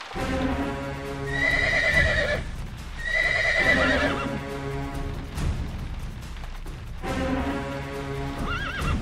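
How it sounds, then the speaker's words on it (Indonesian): Horses race at a traditional Bima horse race in East Java ridden by child jockeys, with loud repeated neighs and whinnies over steady clip-clopping hooves and continuous crowd-like background noise, close and busy throughout. "Pacuan kuda Bima di Jawa Timur ini pun menggunakan anak-anak sebagai jokinya."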